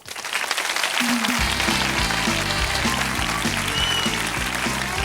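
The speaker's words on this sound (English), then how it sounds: "Don't clap when I'm trying to do the credits" A studio audience claps and cheers at the close of a Whose Line Is It Anyway episode with Richard Vranch on piano, the applause loud and sustained while piano chords play along under it.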